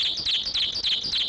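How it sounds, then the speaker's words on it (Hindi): A small bird chirps repeatedly at its nest in a quick, high-pitched run of calls, fairly close and clear with no one talking. "ये देखिए सर, ये एक ही चिड़िया जिसने आकर अपना घोंसला बनाकर रखा हुआ है,"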